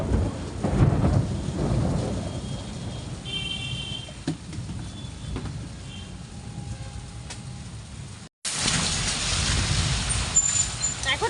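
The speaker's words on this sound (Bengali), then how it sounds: "বিদ্যুৎটা শুধু এত বেশি দিচ্ছে বাপরে এখনো বৃষ্টিটা হবে না" An afternoon thunderstorm rumbles with long rolling thunder over steady rain, the low roar swelling and fading before a sudden burst of heavier, hissing downpour near the end.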